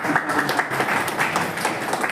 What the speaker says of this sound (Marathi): तुम्हाला विनंती करतो ते टाळ्या वाजून घ्यायचा